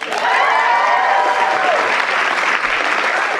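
Dense, sustained applause fills a White House signing ceremony, loud and close, with cheering and whoops rising over the clapping early on and fading into an even roar.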